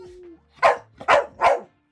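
A pet dog named Mally barks three times in a quick, loud, close series, each bark short and evenly spaced, after a brief low tone and a moment of quiet.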